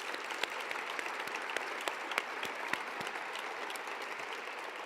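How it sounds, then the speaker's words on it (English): Steady audience applause for students working to end cyberbullying and promote online civility, a dense even patter of many hands with a few sharper claps standing out, moderately loud and continuous with no talking. "Please join me in applauding these amazing young adults"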